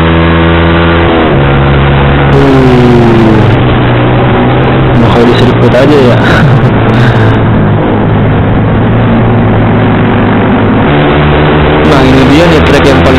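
A Honda Beat motorcycle fitted with a racing exhaust revs loudly and continuously on a mountain road near Puncak, its droning pitch rising and falling under someone talking.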